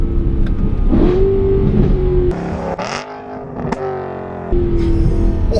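A BMW M3 V8 of 400-plus brake horsepower accelerates on a wet road, its loud engine note climbing, breaking off for a quick shift and pulling again.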